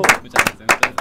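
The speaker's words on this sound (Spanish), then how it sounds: "Un aplauso." Handful of quick, sharp hand claps in a live radio studio as guest Tommy Torres is welcomed on air, a few people clapping in short uneven bursts, close and bright.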